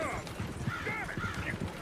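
Horses in the Red Dead Redemption 2 video game clop their hooves rapidly and give a short whinny, fairly close, while a voice talks over them.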